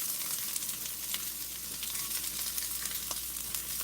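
Breakfast food sizzles and crackles steadily in a hot pan at home, with a constant bright frying hiss and a few faint pops, and no voices.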